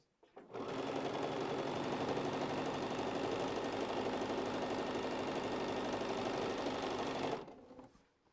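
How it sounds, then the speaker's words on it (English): A home sewing machine set in a cabinet runs fast and continuously for about seven seconds, a loud, even buzzing whir with a slight shaking rattle, starting and stopping abruptly. "I'm sewing pretty fast,"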